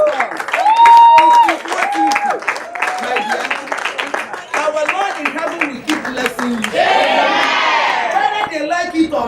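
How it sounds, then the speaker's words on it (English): Audience at a Nigerian film academy audition claps and cheers loudly, with whoops and shouting mixed with voices and talk throughout, swelling again near the end. "Can we just clap for Uche Nancy for this one?"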